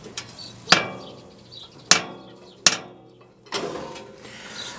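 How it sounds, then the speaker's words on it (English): A forge's coal chute flapper kicked open: three loud ringing metal clanks, then a looser rattling clatter of dropping coals, close and otherwise quiet. "I can just stand up and kick on this, and it'll drop my coals like this"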